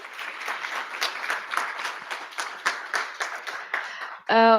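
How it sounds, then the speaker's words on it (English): An audience claps for the panelists at the close of a youth-and-policymakers panel session, a few seconds of moderate applause that cuts off abruptly into a louder tonal sound at the very end. "Maybe a big round of applause because it's our last panel."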